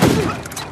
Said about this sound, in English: I'm gonna throw a grenade. He's gonna die to that grenade.